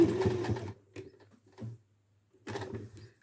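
Sewing machine stitching knit fabric for a doll body, in short bursts of rapid mechanical whirring separated by pauses, close and clear.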